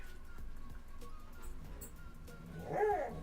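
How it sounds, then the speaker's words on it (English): A dog carries a noisy squeaky toy indoors; faint rustling and soft whimpery sounds run through, ending in a brief rising-and-falling squeal near the end, with no talk. "So Dog, don't come in here with that noisy ass toy."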